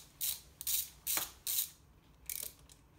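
A ratchet wrench working an 8mm bolt on the air scoop of a Yamaha MT10 motorcycle: five quick close clicking bursts in an uneven rhythm, with a brief pause before the last.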